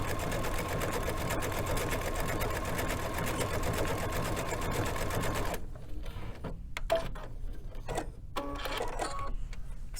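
A compact digital sewing machine with a dual feed foot stitches a decorative pattern, a fast, steady mechanical whir that runs loud and close, then gives way to quieter intermittent clicks and short motor bursts.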